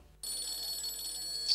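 A telephone rings indoors with a bright, continuous electronic trill that starts abruptly after a moment of near silence and holds steady at moderate volume.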